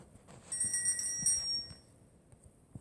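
A bell rings in the Granny horror video game, a thin metallic ringing that holds for about a second before fading, with faint thumps around it.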